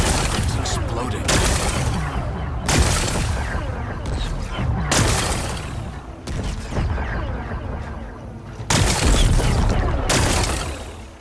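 Rock-blasting explosions in Horizon Forbidden West, a series of loud booming bursts about every two to three seconds with crackling debris between them, while a voice talks over the blasts.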